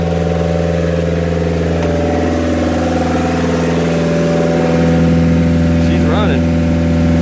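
A car engine idles steadily while warming up, a loud, even hum with a constant low drone and a slight rise in level near the end, close by.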